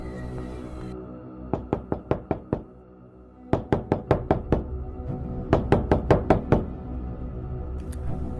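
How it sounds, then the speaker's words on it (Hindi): Someone knocks on a house gate in three sharp bursts, each a quick series of five or six loud, hollow raps, with short pauses between the rounds and a low hum underneath. "गुल्ली घर के गेट पे पहुंच के गेट को खटखटाने लगता है।"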